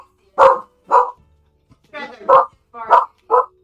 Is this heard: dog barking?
yes